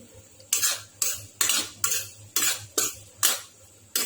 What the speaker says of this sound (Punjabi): ਕਾਲੀ ਮਿਰਚ ਨੂੰ ਵੀ ਆਪਾਂ ਮਿਕਸ ਕਰ ਲਵਾਂਗੇ